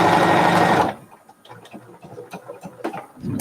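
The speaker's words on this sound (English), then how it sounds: "I'm just going to sew it to this piece of black." A sewing machine stitching black quilt fabric runs in a loud dense whir for under a second, then stops, leaving faint handling clicks and rustles.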